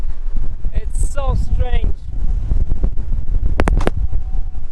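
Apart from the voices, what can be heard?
wind howling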